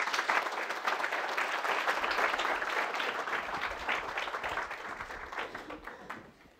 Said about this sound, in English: I always wonder about the applause coming first.